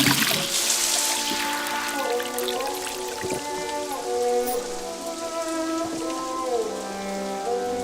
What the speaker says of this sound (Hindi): किसी ने नहाने का शावर रख दिया